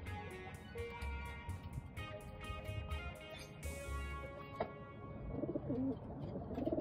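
A pigeon coos at a breeder cage, giving soft repeated low calls close by, with some wing flutter and faint rustling in the background.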